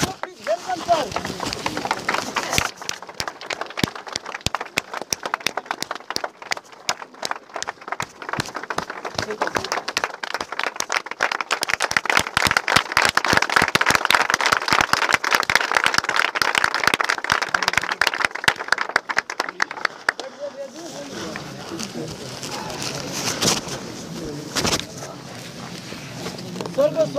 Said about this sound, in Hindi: बड़ी मान बड़ी सम्मान के साथ आप लोग खड़े होकर हल्की हल्की तालियों से स्वागत करेंगे